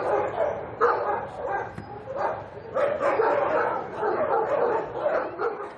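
Dogs bark and yip in a Mayenne SPA animal shelter housing about a hundred dogs, several voices overlapping in bursts that continue steadily throughout, mixed with a voice talking.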